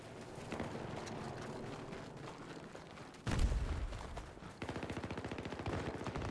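Rapid gunfire bursts in the video game Battlefield 2042, dense crackling shots running throughout with a heavier blast midway and steady rattling fire after, loud and continuous.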